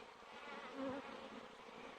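Honeybees at a beekeeper's hive buzz in a soft, steady drone, faint and continuous, with no talking.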